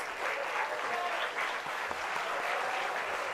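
Dense, continuous applause from a large audience at a university convocation for gold medal winners, many hands clapping at once in an even, sustained wash of sound.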